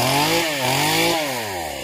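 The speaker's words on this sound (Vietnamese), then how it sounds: "Bà cô Hoa sẽ cưa cây sau, ở chính giữa hai cây dừa luôn." A chainsaw cuts through a large branch of a tree between two coconut palms in rainy weather, its motor droning loud and close with pitch dipping and rising as the blade bites.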